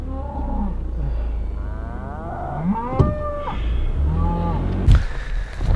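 Cattle on open range low and moo repeatedly, several overlapping drawn-out calls, some near and loud, others further off, with a few brief knocks and no voices.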